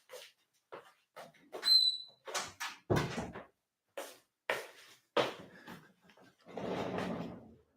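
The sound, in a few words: door being closed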